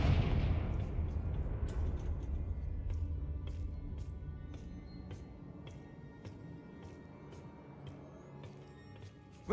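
Confringo fire-blast spell in Hogwarts Legacy: a heavy booming explosion that rolls and decays over several seconds, with sharp crackling pops and snaps scattered through the fading rumble.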